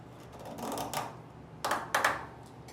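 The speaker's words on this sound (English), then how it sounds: "Thread until you start hearing that clicking noise." Bicycle cassette lockring being threaded back on with a removal tool, giving a few quiet, scattered ratcheting clicks, with two sharper bursts close together near the end and no talking.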